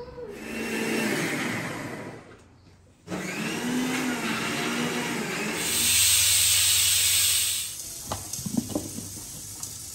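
A mixer grinder whirring as it grinds Mangalore cucumber and green chillies, a loud steady motor roar that stops briefly, restarts, then rises in pitch before cutting off, followed by a few clinks.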